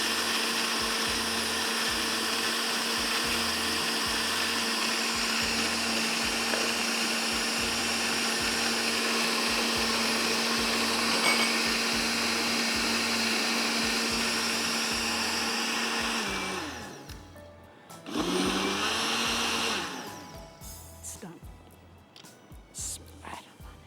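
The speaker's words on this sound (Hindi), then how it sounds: "बहुत अच्छी तरह से आपको इसको ब्लेंड करना है ताकि आपका बर्फ़ का खड़खड़ ख़त्म हो जाए" A blender crushes ice in a loud, steady whir with a rhythmic chopping pulse, then stops abruptly and spins briefly again before winding down.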